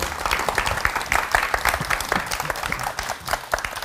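A crowd at a political talk concert applauds to welcome an author onto the stage, with loud, dense clapping throughout with a few scattered shouts mixed in.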